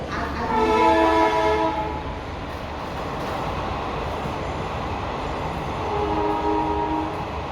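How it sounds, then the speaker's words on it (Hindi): A train rumbles past with a steady rolling roar, and its horn sounds near the start and again near the end. "ट्रेन चली गई"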